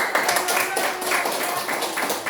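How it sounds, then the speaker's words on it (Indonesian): Classroom audience clapping after a lesson discussion, a steady, dense patter of many hands at moderate volume throughout, recorded close with a bit of room noise. "Ya, tepuk tangan."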